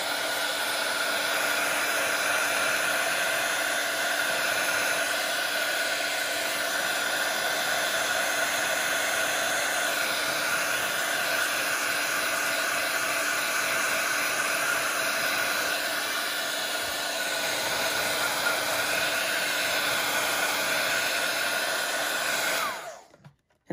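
A handheld dryer blows over a distress ink watercolor background on paper with a loud, steady whirring rush of air that holds for over twenty seconds and then cuts off abruptly.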